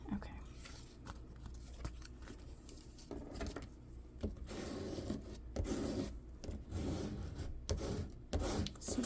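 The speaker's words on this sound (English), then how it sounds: "just go over it a little bit with your bone folder" A bone folder rubs over glued paper in a craft project, making soft, close scraping and rasping strokes in irregular bursts. The sounds are fairly quiet, with speech faintly present.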